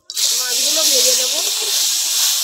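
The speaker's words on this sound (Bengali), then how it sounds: "মাছগুলো ভেজে নেব।" Small mourala fish coated in salt and turmeric drop into hot oil and start a loud, steady sizzle that holds unbroken, with a faint voice murmuring underneath.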